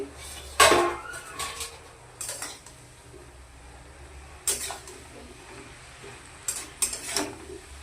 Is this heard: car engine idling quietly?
no